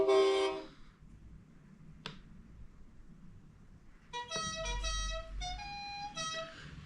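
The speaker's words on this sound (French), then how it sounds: "Donc les klaxons, donc nous avons deux." Horns of a Tamiya Mercedes-Benz 4151 RC truck sound through its electronic sound module: a short blast opens, a sharp click follows, then a longer series of sustained, multi-tone horn notes near and fairly loud, with no talking.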